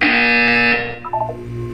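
A loud, harsh electronic buzzer in Portal 2 sounds steadily, then breaks into a brief wavering warble before a lower hum lingers.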